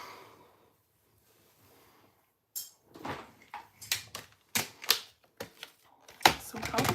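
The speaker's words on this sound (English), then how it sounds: "So now I am going to need to trim this." Paper being trimmed for handmade cardmaking, a rapid series of about a dozen sharp, close clicks and slicing strokes from a paper trimmer, starting after a quiet opening and growing louder toward the end.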